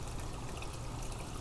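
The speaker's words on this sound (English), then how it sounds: "And then water just turns right out the bottom." Water trickles and dribbles steadily out the bottom of a prototype bait tank biofilter, a soft, continuous, close-by flow with no other sounds.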